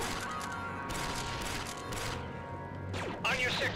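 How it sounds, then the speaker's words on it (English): Blaster gunfire crackles through a dark level of Star Wars Republic Commando as robot droids are shot, steady bursts of shots over game noise with a sharper flurry near the end. "Shooting robots in the dark."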